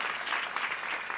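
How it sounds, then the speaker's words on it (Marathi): A crowd claps together at a Marathi devotional kirtan, a brief, loud and dense burst of applause in a hall, heard on its own. "बाबा टाळ्या वाजवा एकदा"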